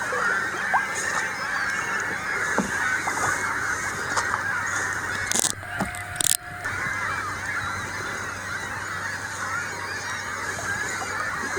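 Seagulls on the Ottawa River calling loudly and continuously, a busy chorus of harsh squawks and honks close by, with a couple of brief louder bursts midway and no talking.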